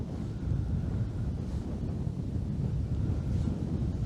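Steady low wind buffeting across the microphone while fishing on the Dnipro River, a continuous rumbling roar with no voices, holding at an even level throughout.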